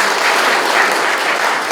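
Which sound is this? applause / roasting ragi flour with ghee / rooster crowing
applause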